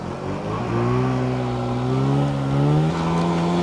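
A race machine's engine revs up gently, its tone climbing steadily over a few seconds at close range with no talk.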